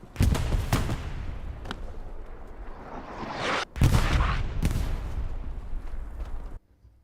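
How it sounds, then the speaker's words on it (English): Explosions and gunfire in the World War II shooter Hell Let Loose, Hurtgen Forest map: two heavy booms with a steady rumble of distant battle between them, ending abruptly. "Explosion happens down to the south."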